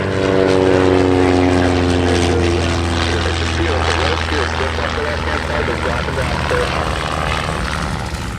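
Propeller-driven Mustang fighters on approach to land at the EAA AirVenture Oshkosh airshow give a loud, steady engine drone that slowly shifts in pitch, with voices talking over it throughout.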